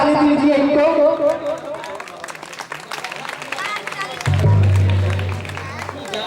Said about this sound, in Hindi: एक बार जोरदार ताली दीजिए इनको